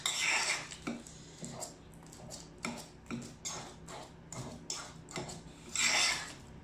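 Bananas being mashed for banana bread in a bowl make a run of soft, repeated scraping and clinking strokes from utensil on dish, close and fairly quiet, with short pauses between them.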